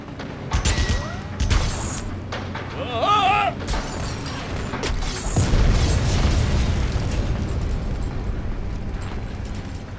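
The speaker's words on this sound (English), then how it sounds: "This guy is gonna blow up that tank any second now." A tank blows up during BloodRayne 2 combat, a deep rumbling boom that swells midway and lingers as a long roaring burn, mixed with scattered game effects and chirping tones.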